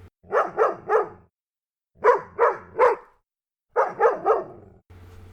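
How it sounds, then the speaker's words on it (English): A dog barks in three quick bursts of three sharp barks each, loud and close, with short silent pauses between the groups. "they heard a dog barking"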